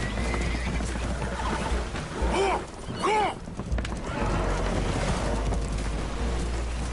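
Spooked horses in a video game whinny twice in quick succession on a boat taking on water, the neighs ringing over a constant roar of wind and waves.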